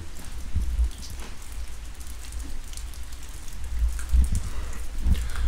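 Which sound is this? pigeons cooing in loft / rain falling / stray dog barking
rain falling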